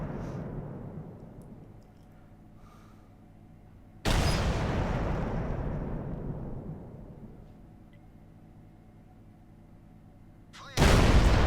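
Tank gun of a VK 28.01 firing in World of Tanks: two loud, booming shots several seconds apart, each with a long decaying rumble, over steady engine noise.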